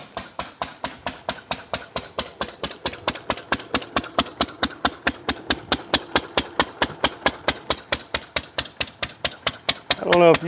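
An engine shooting flames from its exhaust runs with a fast, even train of sharp pops, loud and close, keeping a steady rhythm throughout, with a brief burst of other noise right at the end.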